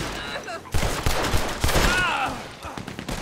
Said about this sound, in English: That certainly sounds like a Gatling gun.